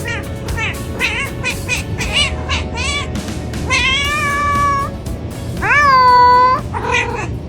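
A pet cat meows repeatedly at close range in a string of short and drawn-out calls, some deep and wavering, with a longer louder yowl near the end.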